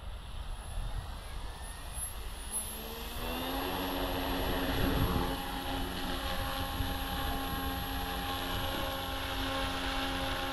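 An OMPHOBBY Multistar radio-controlled helicopter with a three-blade rotor flies, its steady whining motor and buzzing rotor rising in pitch and holding loud and close.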